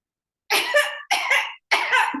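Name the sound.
imitated cough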